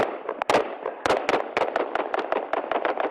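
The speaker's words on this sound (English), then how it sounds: "Then an exchange of gunfire." Rapid sharp bangs crackle in quick irregular bursts, a dense volley of gunfire-like pops close by with no pauses longer than a moment.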